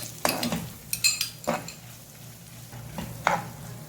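A spoon mixes a mayonnaise chicken slider filling in a bowl, several sharp clinks and scrapes in short bursts over a quiet background.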